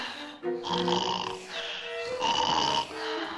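A voice imitates someone snoring during a nap, making drawn-out, rasping, nasal snores with a short breath between them, close and fairly loud.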